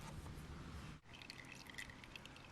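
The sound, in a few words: motor oil draining from motorcycle crankcase plug into pan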